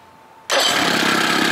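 Johnson Evinrude 25 or 30 hp outboard motor starting up, a sudden loud engine catch after a quiet moment, then a steady close running roar.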